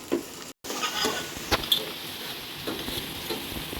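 Onions fry in a generous amount of oil for a mutton and prawn pulao, giving a steady, soft hiss with occasional scrapes and clicks of stirring, close by.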